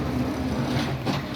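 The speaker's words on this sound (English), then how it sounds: "sorry, that's a garbage truck." A garbage truck idles and rumbles outside a house in a neighbourhood, giving a steady, fairly loud low engine drone with a brief hiss-like swell near the end, heard with no talk.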